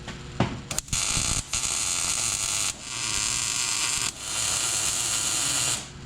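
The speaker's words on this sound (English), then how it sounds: "I'm gonna throw some tacks at it." Tack welds go onto a Speedway IFS lower cradle during a Mustang II front suspension swap: four loud, crackling electric buzzes of a second or more each, separated by brief pauses, close up with no talking.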